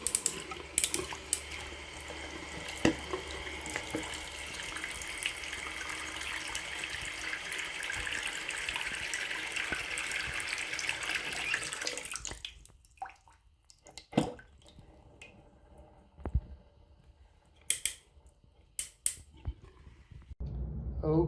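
Water streams steadily from a black waterfall-spout bathroom faucet for about twelve seconds, then shuts off, leaving scattered drips and small clicks in a quiet room.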